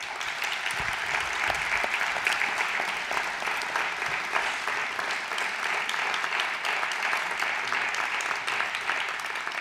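Audience applause opening the fifth Galanura traditional-dress festival in Zamora, a dense steady clapping from a large crowd, loud and even throughout with no pauses.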